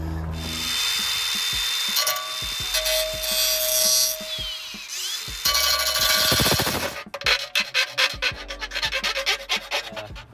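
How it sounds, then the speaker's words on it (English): A tool cuts and grinds through the metal brake dust shield during a Brembo big brake kit install on an E92 BMW M3. The rasping whine is close and loud, with stuttering bursts toward the end. "We're gonna have to make a cut on the shield here and then do some burring on the spindle itself."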